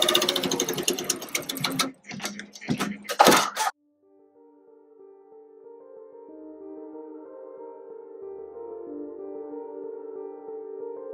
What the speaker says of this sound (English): now I'm going to get ready to begin stitching